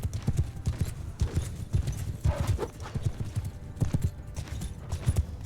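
Horses gallop in the medieval combat game Mount and Blade Bannerlord, a dense rapid clatter of many hooves close by, continuous for several seconds.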